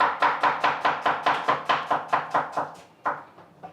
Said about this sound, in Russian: Сейчас нарезаем мелко овощи.